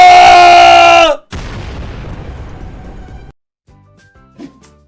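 A rocket explosion blows up a house as a loud, sustained roar cuts off abruptly, followed by a booming blast with a long rumbling tail. It ends in near silence with a few faint sounds.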